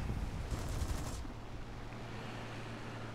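Aircraft machine gun fire in the War Thunder combat flight game, a short rattling burst up front that stops after about a second, leaving a steady engine drone.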